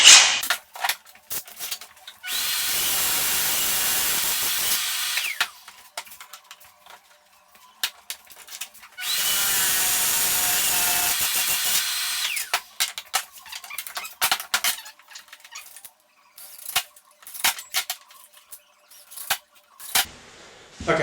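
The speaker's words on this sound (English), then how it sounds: "Chuck straight over the drill, and then we're good." A power drill bores hinge holes in kitchen cabinet doors, with two loud sustained bursts of high whining and cutting separated by quieter clicks, taps and handling noises.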